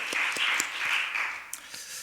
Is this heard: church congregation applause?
yes